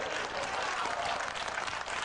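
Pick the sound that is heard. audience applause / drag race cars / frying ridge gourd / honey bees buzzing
audience applause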